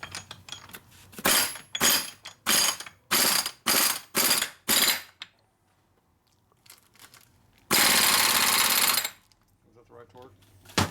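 A torque wrench ratchets on a Harley shovelhead stroker big-bore motor, giving about seven loud, evenly spaced rasping strokes, then a pause and one long continuous burst, with brief speech near the end.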